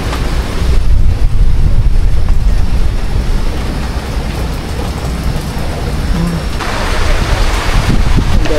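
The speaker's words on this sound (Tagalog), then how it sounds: "Mahangin kasi mga katuba." Strong typhoon wind from Typhoon Uwan roars loudly and steadily against the microphone, a dense, buffeting rush with gusty swells that never lets up.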